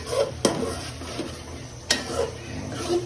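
Masala for mutton curry being stir-fried in oil in a pan, with a low sizzle, soft scraping and two sharp utensil knocks against the pan.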